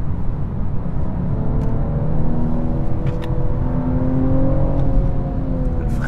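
A 2022 BMW M240i xDrive accelerates hard out of a corner, its engine giving a loud, steady drone that climbs gradually in pitch, heard from inside the cabin with constant road rumble underneath.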